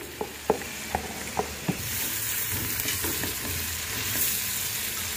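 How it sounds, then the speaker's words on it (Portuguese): Chopped onion and bacon frying in a pan, with a few sharp clatters from a utensil, then a steady, close hiss of sizzling fat that continues alone. "Agora, pessoal, eu vou colocar meia cebola picada."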